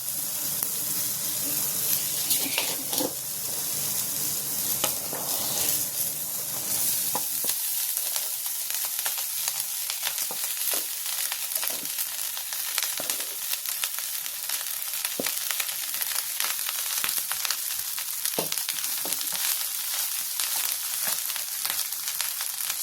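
Rice sizzling and frying in a pan while being stirred for jeera rice, a steady loud hiss with scraping and stirring noises throughout, close up and with no talking.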